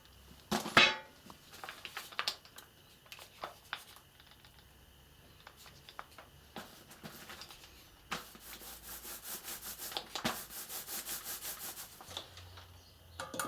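Sanding varnished wood inside a yacht cabin during a winter refit, heard as a series of soft, close rubbing and scraping strokes, irregular at first and then in steadier rhythmic bursts, with small knocks between.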